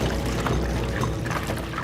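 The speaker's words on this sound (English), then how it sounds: "He pours gas." Gasoline poured out steadily, a continuous close liquid splashing and gurgling that runs unbroken for under two seconds with no voices.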